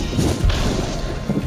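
A dust explosion in the video game Monster Hunter World: dense, crashing booming bursts with heavy low thuds, loudest around the middle and returning near the end, with no talk.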